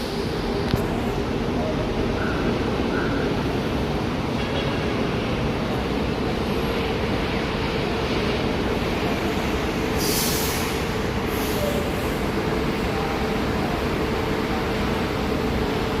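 A third-generation LRT Line 1 train idles at Asia World station, its steady low rumble and air-conditioning hum continuous throughout, with faint rail squeals and light background voices.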